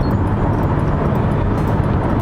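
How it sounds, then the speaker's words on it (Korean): A Hyundai Kona with a 177 hp gasoline engine accelerates at full throttle, giving a loud, steady, dense cabin roar of engine and road noise that holds constant throughout, with no voices. "악셀링을 하면은 엔진 RPM이 도는 만큼 충분한 가속 성능을 보여줍니다"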